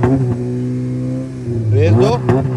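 A Honda Civic fitted with a cut-off exhaust, raised up in a workshop, revs briefly: a steady low idle drone climbs into a rising rev burst near the end, loud and close, with voices talking over it.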